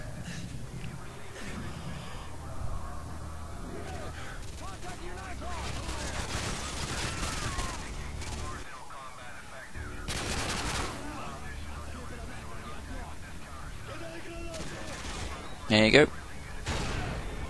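Gunfire in the Call of Duty Modern Warfare 2 campaign mission Whiskey Hotel: bursts and sustained automatic fire with scattered pops and a loud blast near the end, layered under a voice speaking over the game.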